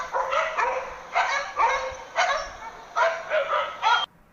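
A dog barks in a quick, uneven series of about eight sharp yaps, each short and bright, grouped in bursts with brief gaps, close and clear with no other sounds.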